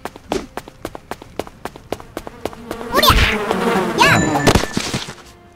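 Video game bee buzzing, a rough insect drone that swells twice after a run of regular thudding footstep-like hits, moderately loud with no talk over it.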